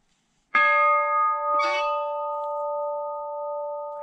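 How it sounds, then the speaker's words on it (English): A bell is struck twice in quick succession, each strike ringing out clearly, then a long sustained tone slowly decays. "Ooh, they got a bell. Let's go ring the bell."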